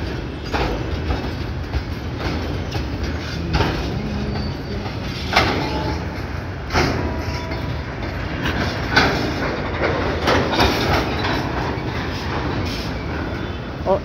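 A DEMU train rolls along an Indian railway close by, a loud continuous rumble with rhythmic clacking of wheels over rail joints.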